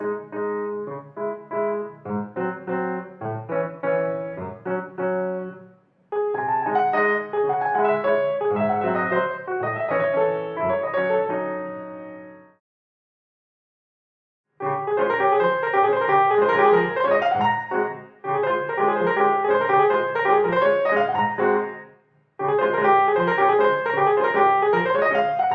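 Piano practice notes played in a crotchet, crotchet, minim rhythm pattern, with bursts of chords and melody separated by brief pauses and one longer silence, clear and up close with no talking.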